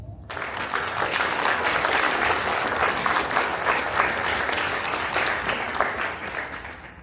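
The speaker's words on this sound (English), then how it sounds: "Please join me in thanking them with a round of applause." Audience applause at a school National Junior Honor Society induction ceremony, a sustained, dense round of clapping from a large crowd in a hall, steady and full for several seconds before easing slightly.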